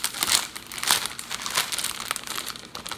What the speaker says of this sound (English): I'm sorry for all the crinkling. It's probably really loud.